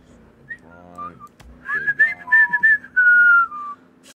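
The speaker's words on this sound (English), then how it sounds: "a bunch of people slowly whistling as they drive past some police" Whistling of a slow, wandering tune nearby in the game GTA V roleplay, a few long sustained notes with brief breaks and a low hum of background noise.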